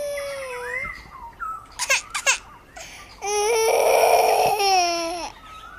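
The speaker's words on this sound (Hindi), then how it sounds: "शाम को थक हार कर जब वो घर वापस जाने लगती हैं, तो उन्हें एक गार में से रोने की आवाजें आती हैं।" A young child cries and wails from inside a cave in uneven bursts, with sobbing breaths and a long, rising cry near the end.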